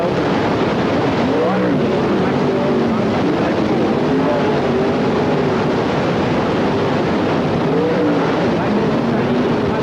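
Sprint cars race at Newcastle speedway in a sustained loud engine roar, with pitch rising and falling as the cars sweep past, and no let-up throughout.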